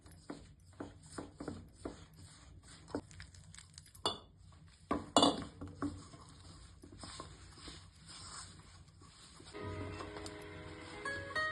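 Salt and a spoonful of oil stirred together in a bowl, heard as a series of close, light clinks and scrapes of a spoon against the dish, irregular taps with a brief louder clatter midway.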